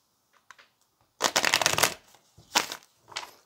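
Tarot cards being shuffled by hand close up: a few light taps, then a dense riffling burst lasting under a second, followed by two shorter shuffling bursts, with no talking.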